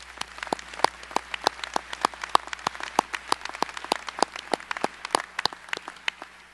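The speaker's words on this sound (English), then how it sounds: "Let's give a round of applause to the parents." A small audience at a university business school commencement ceremony claps for the parents, with separate claps spaced out into a loose, thin patter rather than a dense roar, and no talk.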